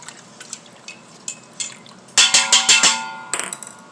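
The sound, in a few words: stirring apple cider vinegar in an Instant Pot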